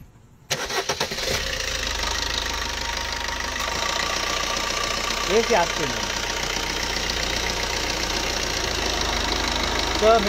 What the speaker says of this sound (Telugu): ఇంజిన్ యొక్క నాయిస్ కొంత హార్డ్ గా అయితే మనకి వినిపిస్తూ ఉంది